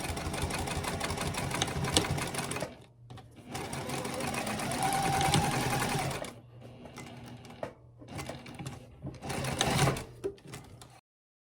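Machine stitching on a leather bifold wallet, running in loud steady bursts with short pauses where back stitches reinforce the stress points at the card slot junctions.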